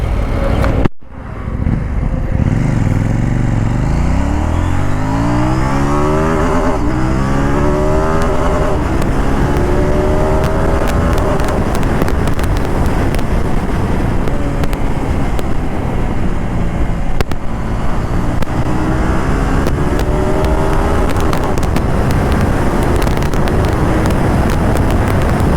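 A KTM Duke 790 motorcycle launches hard with launch control engaged, its engine note climbing steeply through the gears on an Indian road test, loud and close under heavy wind roar that persists throughout.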